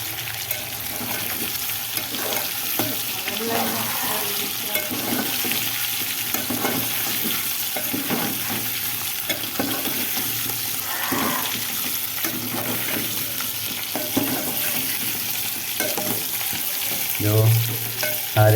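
Spiny gourds (kantola) frying in oil in a village kitchen, with a continuous crackling sizzle and intermittent stirring scrapes and clatter, a louder bump near the end.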